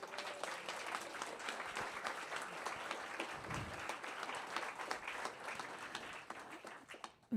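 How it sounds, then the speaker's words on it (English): An audience at a fireside chat event breaks into steady applause, a dense, even wash of many clapping hands that sounds somewhat distant and soft, tapering off just at the end. "So please join me in giving Anita and Camilo a round of applause."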